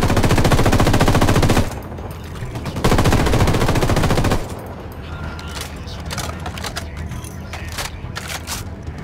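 Machine guns fire in Ghost Recon Wildlands in two long, loud, rapid bursts, the second after a short pause, then fade to scattered, quieter shots and rattling.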